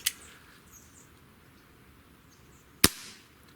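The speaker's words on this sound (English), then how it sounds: "we're going to shoot pellets now out of our 7-inch using the pellet shells" Two sharp shots from a 7-inch Schofield revolver firing pellet shells, loud and close, the first at the very start and the second about three seconds later, with quiet room tone between them.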